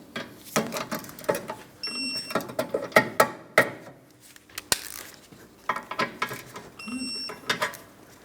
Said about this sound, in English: And my torque wrench.